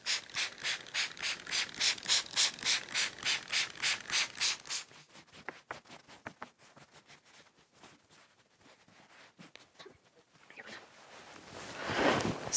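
Hands press and rub misted cotton fabric flat, giving a rapid rhythmic brushing swish that is loud at first, then softer scattered rubbing and crinkles, with a louder burst at the end.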